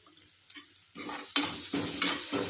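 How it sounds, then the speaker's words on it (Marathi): Potatoes stirred with spices such as ground coriander, turmeric and salt in a pan, with a few close scraping strokes of a spoon against the pan over a soft sizzle. "त्याच्यात आपण बटाटे हे सगळे मिक्स करून टाकणार आहोत।"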